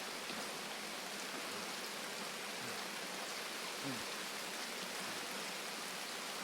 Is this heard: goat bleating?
no